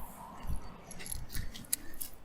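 A BMW car key jangles close by in light, scattered metallic clinks and rattles, fairly quiet, with a brighter tinkle near the end.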